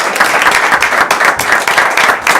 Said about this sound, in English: Round of applause for the individual